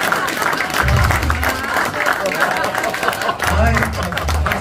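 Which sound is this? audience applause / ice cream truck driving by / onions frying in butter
audience applause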